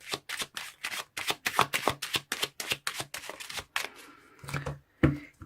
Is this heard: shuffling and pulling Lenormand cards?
yes